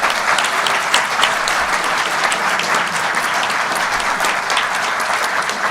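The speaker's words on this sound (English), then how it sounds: "Big applause and thank you to the NNSA, the National Nuclear Security Administration" Sustained audience applause at a fusion energy talk, dense steady clapping from a sizeable crowd, fairly close and loud, with no speech over it.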